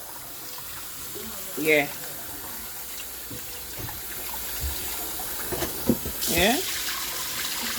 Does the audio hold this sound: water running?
yes